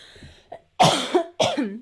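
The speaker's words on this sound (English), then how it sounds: "I can feel like a cough coming again." A person coughs, first a small throat sound, then two loud harsh coughs close to the microphone.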